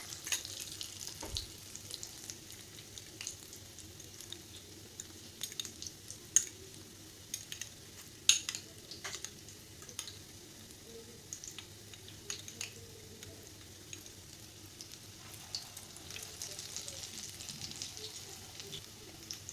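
Egg-dipped potato kababs shallow-frying in oil over low to medium flame, a soft, faint crackle and sizzle with scattered tiny pops and an occasional light utensil tap.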